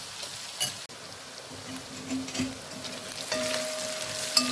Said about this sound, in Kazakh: Осылай әбден сәбізі мен пиязы жұмсарғанша қуырып аламыз.